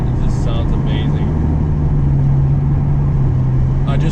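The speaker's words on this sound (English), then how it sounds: "to hear the exhaust, hear the engine and everything else" A 2013 car with a 5.7L Hemi V8 idles steadily with a deep, continuous exhaust drone, close and loud, with a faint voice and small noises in the background.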